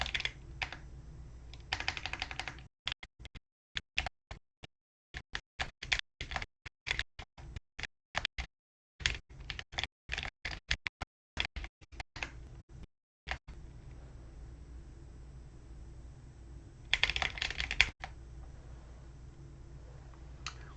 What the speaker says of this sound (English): I'm going to type while you guys ponder that.